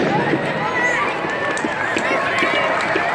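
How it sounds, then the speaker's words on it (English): Loud, continuous audience applause at a Worcester Railers name and logo announcement, a dense wash of clapping with crowd murmur mixed in throughout. "Is that applause to finish, or because I'm going to announce the name?"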